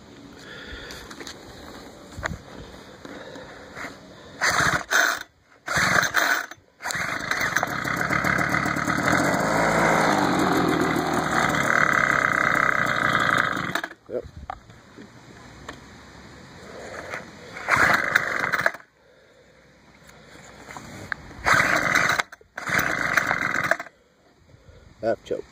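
Homelite leaf blower pull-started on full choke, small two-stroke engine catching and running roughly for several seconds, then sputtering with repeated short bursts and cord pulls.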